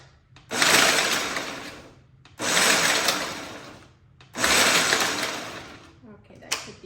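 A kitchen blender pulses chicharron in three loud, harsh grinding bursts of about a second and a half each, with brief pauses between them.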